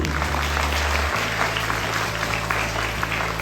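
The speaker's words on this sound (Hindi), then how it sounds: "तालियां बजती रहनी चाहिए।" Continuous audience applause at an award ceremony honoring students, a steady wash of many hands clapping heard through a hall with a low electronic hum underneath throughout.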